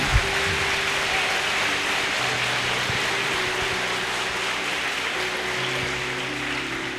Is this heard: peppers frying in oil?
no